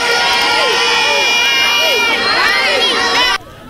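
A huge crowd celebrates Mali's independence day in a dense, continuous roar of shouting and cheering voices, loud and close, with many overlapping calls before an abrupt drop at the end.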